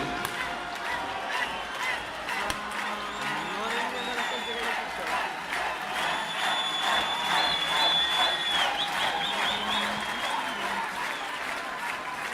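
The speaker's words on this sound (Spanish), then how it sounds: "Un aplauso para la banda de música de Vila García y a toda la organización de San Roque." A crowd at the Festa da Auga water festival in Vilagarcía de Arousa applauds the town's music band, steady clapping mixed with shouts and whistles at a moderate distance, with voices talking throughout.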